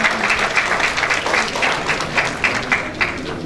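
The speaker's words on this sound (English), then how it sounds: "A big round of applause for Dr." An audience at an annual function applauds Dr. Balkar Singh with steady, dense clapping from many hands. It is fairly loud and close and continues throughout without talk.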